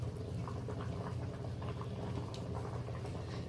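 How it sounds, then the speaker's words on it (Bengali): Egg omelette curry boiling in a pan, a steady close bubbling patter at low volume with no talk. "এই দেখুন তরকারিটা ফুটে গেছে।"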